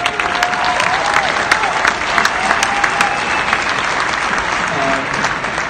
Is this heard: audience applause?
yes